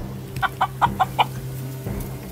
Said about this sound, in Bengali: বিশাল সাইজের কিন্তু মোরগ, এগুলো দিয়েই মোরগ লড়াই করা হয়।